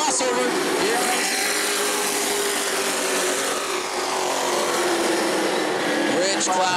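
Sportsman race cars roar around the track at New Smyrna, a loud continuous engine din with passing cars rising and falling, while an announcer talks over it throughout.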